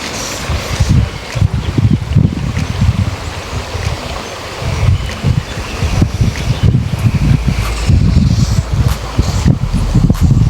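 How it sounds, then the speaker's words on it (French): Gusty seaside wind rumbles against the microphone in uneven bursts at Criel-sur-Mer, loud low buffeting rising and falling with a faint rustle behind it. "Il y a un peu de vent aujourd'hui."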